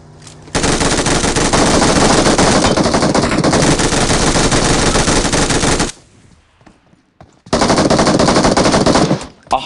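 Loud, sustained machine gun fire in a video game, a long unbroken burst, then a short quiet gap and a second burst cut off near the end.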